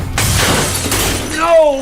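A glass door shatters in a loud, bright burst of breaking glass during a superhero fight scene in the Netflix film Thunder Force, followed by a second crash and a voice at the end.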